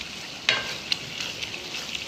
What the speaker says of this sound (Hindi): अपने कीमे की करेंगे थोड़ी सी भुनाई